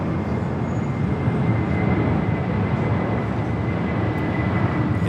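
An airliner at Los Angeles LAX airport roars steadily and loudly, a continuous broadband jet rumble with a faint high whine, filling the scene without pause.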